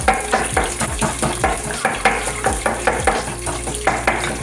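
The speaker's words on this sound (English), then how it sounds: "Let me just throw my carrots in here." Carrots hitting hot oil in a pan, with a bright steady sizzle and regular clattering stirring strokes against the pan, close up.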